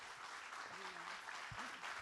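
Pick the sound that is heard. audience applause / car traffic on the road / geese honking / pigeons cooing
audience applause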